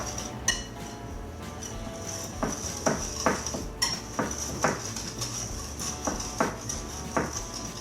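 A spoon stirs cocoa powder into cake flour in a bowl for a homemade chocolate cake, making light, close clinks against the dish in a steady, uneven rhythm.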